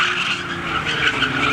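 Drag race cars, including a Ford Mustang, launch from the starting line at a Labor Day spectator drag event, with loud tire squeal and roaring engines in one dense, sustained burst.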